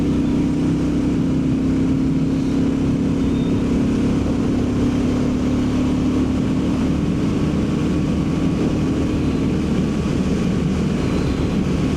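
A Royal Enfield Bullet 350 motorcycle cruising at about 60 mph, its engine drone steady and loud under heavy wind rush, with no let-up for the whole stretch.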